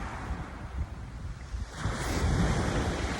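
Ocean waves washing onto a beach in steady wind, a broad continuous surf roar that swells louder in the second half, with wind buffeting the microphone and no voices.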